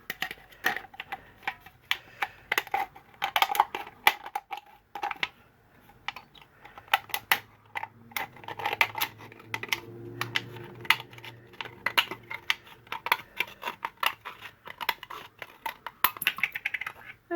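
Aluminium soda can being cut up close with scissors, giving irregular bursts of sharp snipping and crinkly metal clicks for over fifteen seconds with no one talking.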